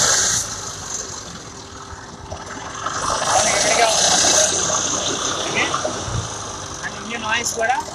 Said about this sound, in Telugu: ఇంజిన్ నాయిస్ కూడా గలగల సౌండ్ వస్తుంది, చాలా రఫ్గా ఉంది కదా